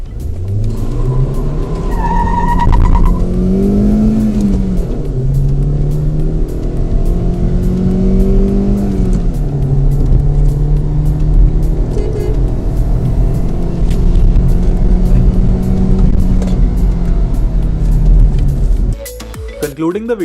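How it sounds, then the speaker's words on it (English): A Hyundai Verna 1.6 sedan accelerates from 0 to 100 km/h, its loud engine note climbing through several gear changes with rising and dropping pitch sweeps over a constant rumble, alone without talk. "Let's check out the 0 to 100 time of this car."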